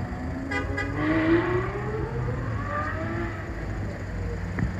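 A bronze Lamborghini Huracan with a Liberty Walk body kit sits at a classic-car meet, its engine running in a steady near rumble with a rising tone, while general crowd and traffic noise carry on around it.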